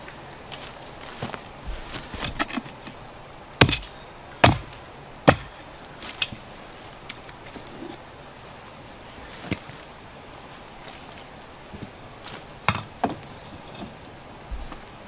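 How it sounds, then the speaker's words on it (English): A rock axe chops at a tree stump, giving sharp irregular thuds and knocks spread across the span, some louder than others, close by in an outdoor setting with no talk. "Now we'll take our favorite rock axe here and see if we knock out that little piece."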